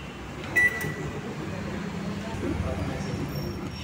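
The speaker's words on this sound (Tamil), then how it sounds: "க்ளோஸ் பண்ணிவிட்டு மைக்ரோவேவ் ஆப்ஷன் 4 மினிட்ஸ்." Low steady hum of a running microwave oven, with a brief high beep near the start and faint background noise throughout.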